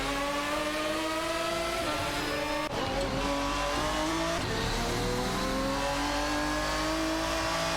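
An Aston Martin DBR9 and a Porsche 911 GT2 battle in a racing video game, their engines droning and revving steadily with rising and falling whines, loud and continuous, with no voices.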